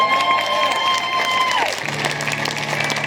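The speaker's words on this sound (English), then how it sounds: "Give Emmet a round of applause." A live concert crowd claps and cheers loudly and continuously for a sound engineer, while a sustained electronic tone from the stage slides downward and gives way to a low hum beneath the applause.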